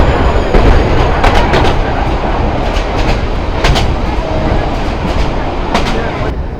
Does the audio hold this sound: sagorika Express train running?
yes